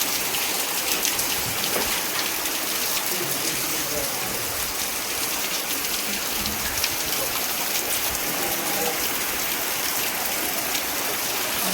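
Heavy monsoon rain falls in a rural farming area, a thick constant roar of drops hitting the ground and surfaces nearby, loud and even throughout.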